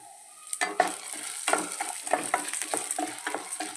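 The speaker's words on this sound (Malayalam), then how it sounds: "നന്നായിട്ടൊന്ന് പൊരിയട്ടെ" Urad dal and chana dal sizzle as they fry in a pan, with soft steady crackling broken by repeated scraping strokes of a stirring spoon.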